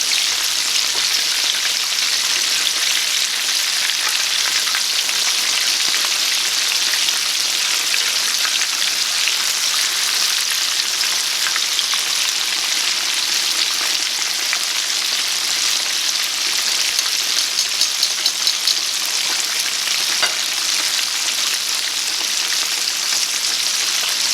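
Chicken pieces fry in hot oil with a loud, steady, close hiss and crackle that runs unbroken throughout, with no talking.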